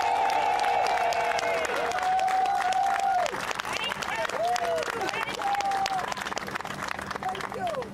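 Audience applause at a press conference announcing a neighborhood opportunity-block project, a steady, dense round of clapping that lasts throughout while a voice speaks over it.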